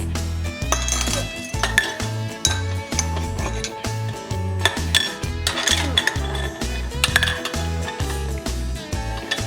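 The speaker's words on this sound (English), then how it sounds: "transferring marbles using spoon" Marbles are moved with a spoon, producing a steady scatter of bright clinks and rattles over a rhythmic musical backing.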